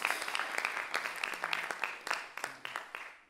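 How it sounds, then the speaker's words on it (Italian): An audience at a jazz concert applauds in memory of a late musician, with scattered individual claps sounding fairly distinct and moderately quiet, tapering slightly toward the end. "Io prego di fare un applauso alla memoria del grandissimo"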